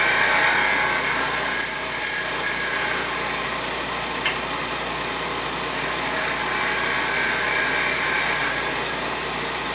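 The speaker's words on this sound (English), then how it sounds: "End grain scrapes very well. You usually get nice curls." Woodturning lathe with a scraper working the end grain of a wooden box, a steady broadband rasping hiss over the motor's hum, continuous and close with no talking.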